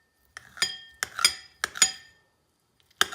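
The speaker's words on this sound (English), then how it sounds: "Now with the tofu, you just want to put it into a bowl, and you can kind of cut it up" Tofu being cut up in a bowl, with four distinct bursts of metallic clinking and scraping of cutlery against the bowl, spaced by short pauses, close up and alone.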